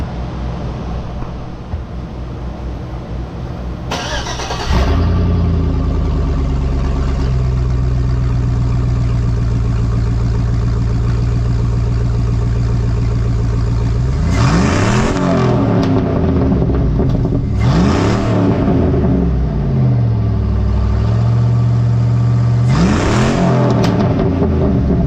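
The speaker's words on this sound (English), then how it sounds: "I'm gonna do a rev test on it." Car engine fitted with new headers cranks and starts, then settles into a loud, steady idle. Several sharp revs rise and fall over it, heard up close with no talking.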